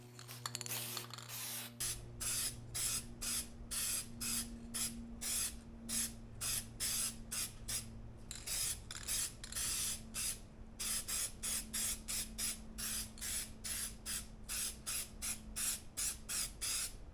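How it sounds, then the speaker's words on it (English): An aerosol can of HyperDip/PlastiDip hisses as wet coats go onto car wheels. Dozens of short, even spray bursts repeat in a steady rhythm with quick gaps between them, heard close up with no talking. "So let's go ahead and apply the wet coats."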